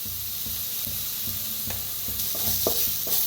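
A spoon stirs turmeric into vada pav potato filling frying in a little oil in a pan, giving repeated scraping strokes over a steady, close sizzle with no talk.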